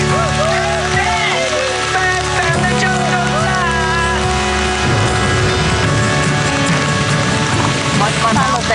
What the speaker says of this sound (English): The return of the rain proves to be their salvation.